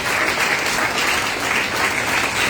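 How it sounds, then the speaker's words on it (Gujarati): An audience at a yoga garba inauguration in Jamnagar breaks into loud, dense, sustained applause, a continuous wash of many hands clapping together without pause. "સૌથી પહેલા તો એક જોરદાર દિલથી તાળી પાડી દો"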